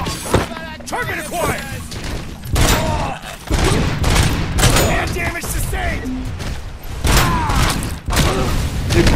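Rapid gunfire from the RoboCop Rogue City video game: repeated loud bursts and thumping impacts crowd together over several seconds, with some game voices underneath.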